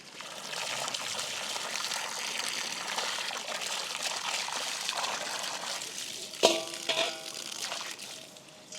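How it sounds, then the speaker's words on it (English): Crayfish are rinsed under cold running water, with a steady close stream splashing and trickling, then a brief clatter and sloshing near the end. "it's necessary to rinse the crayfish under cold water to"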